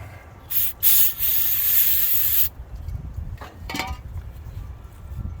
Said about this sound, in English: Get some Scotch-Brite.